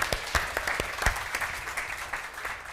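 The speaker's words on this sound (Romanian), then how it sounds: "hai să-i dăm o rundă de aplauze" Applause from an audience at the Bucharest Integrity Gathering as a speaker arrives on stage, a steady wash of many hands with a few louder claps standing out, fairly close and continuous throughout.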